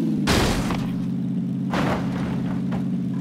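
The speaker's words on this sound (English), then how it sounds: "they've added a new sound effect for when you hit a player with your vehicle" In the PUBG video game, a vehicle strikes a player with a heavy thud-like impact, followed by a second, softer hit over a constant loud engine drone.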